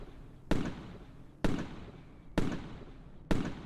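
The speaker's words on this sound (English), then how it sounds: "let's go ahead and fire off another set of fireworks" Fireworks launched in Microsoft Flight Simulator 2020 near a hot air balloon: four sharp explosive bursts at roughly one-second intervals, each a loud crack fading into a short rumbling decay, with no talk.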